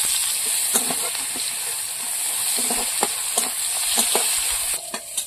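Onion and garlic fry loudly in a pan, giving a dense, constant sizzle with intermittent stirring scrapes close by.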